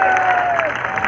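Audience applause at a bodybuilding show in Sahawar, a short dense burst of clapping and crowd noise with a voice carrying over it.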